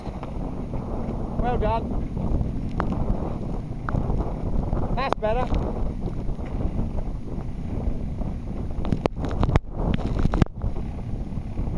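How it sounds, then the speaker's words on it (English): Wind gusts buffet the microphone aboard a small sailboat on a training sail, a steady roaring rush throughout with water noise, while an instructor speaks briefly over it. "That was a big gust."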